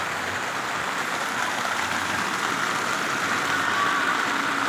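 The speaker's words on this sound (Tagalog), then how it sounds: "Sobrang lakas ng ulan." Heavy rain pours down over a street food stall in a dense, unbroken roar, with a faint engine hum underneath.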